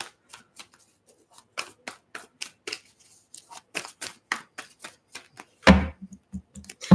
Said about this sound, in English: I had just cut the deck and went right back to shuffling.